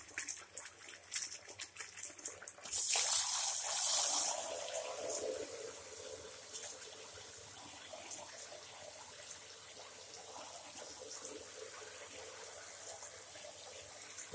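Shower jets spray onto a Cape monitor lizard in a tub of lukewarm water, starting with a short loud burst of hissing spray that settles into a softer, steady splashing and trickling with scattered drips.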